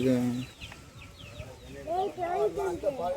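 Several short clucks from chicks and hens sound close by, with a person talking over part of it.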